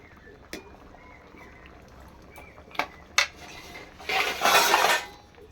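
Boiled sweet potatoes lifted out of a pot of water with a metal strainer: a few scattered clinks and taps, then a brief loud rush of dripping, splashing water near the end.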